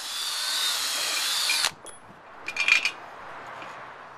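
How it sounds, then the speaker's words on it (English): A power drill whines at high speed for over a second pre-drilling a log for log furniture armrests, then stops; a few light clinks and taps of tools follow close by. "Then we're going to pre-drill it, just like before, and then bolt them on."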